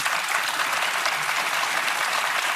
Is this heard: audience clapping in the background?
yes